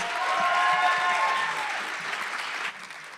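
An online poetry jam audience applauds after a poem, sustained clapping that swells early then gradually thins and fades, with no talk over it.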